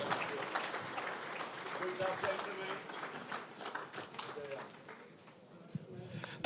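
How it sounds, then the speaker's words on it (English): Applause for panelists at a Bureau of Gender Affairs Outstanding Father Awards ceremony: moderate crowd clapping under a background hum that tapers off near the end, with voices mixed in. "Let's give them another round of applause, our panelists, ladies and gentlemen."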